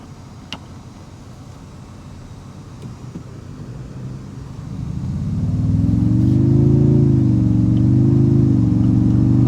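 Inside a moving Toyota Tundra TRD Pro pickup, a steady road hum gives way midway to a louder, deepening engine drone as the truck accelerates, holding a low rising and falling tone to the end, with no talking.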